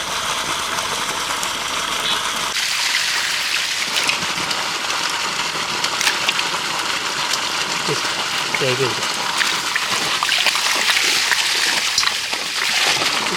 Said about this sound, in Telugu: ఫ్రెండ్స్ ఇప్పుడు మనం క్లీన్గా కడుక్కుందాం